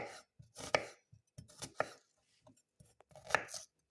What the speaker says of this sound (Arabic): نفرمها مش ضروري تكون ناعم لأن هي فتوش، مش ضروري يكون ناعم البصل